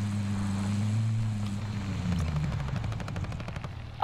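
Gunfire in Call of Duty Warzone, a rapid train of sharp shots rattling out over a steady low helicopter-like engine drone, the bursts building in the second half.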